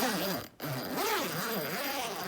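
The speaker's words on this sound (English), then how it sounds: "So both of these little zippers just come straight on up" Two small zippers on a plastic plant cover over seedlings are pulled upward in a few quick, close rasping strokes, with a short pause early on and no talking.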